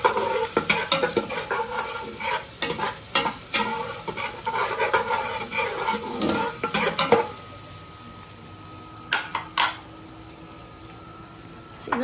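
Garlic frying in a generous amount of oil, stirred briskly with a loud close sizzle and scraping for several seconds, then settling to a quieter hiss with a few faint knocks.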